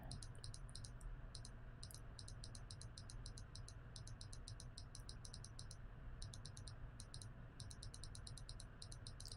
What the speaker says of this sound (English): I'm just clicking a bunch on this one.